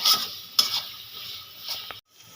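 Taro leaf curry stirred in a pan: a few close scrapes and clatters of a spatula against the metal over a soft sizzle, ending abruptly.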